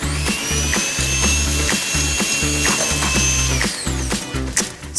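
A stand mixer creams butter and sugar for cookie dough with a loud, rhythmic mechanical whir and regular clicking pulses, running continuously close up before slowing near the end.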